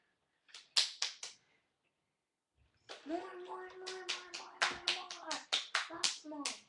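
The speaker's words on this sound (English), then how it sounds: "Clap, Dylan. Clap. Dylan, clap. Clap more." A child claps hands: a quick burst of about four claps, a pause, then a longer run of sharp, close claps, with a voice talking under part of the run.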